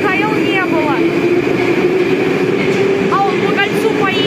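A Moscow metro train on the Big Circle Line passes with a loud, continuous rumble and rail noise, heard up close while voices talk over it.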